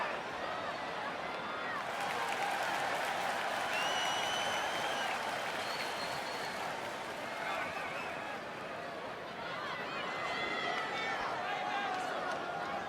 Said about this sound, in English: Byron, are you at all surprised by the intensity level inside this arena right now?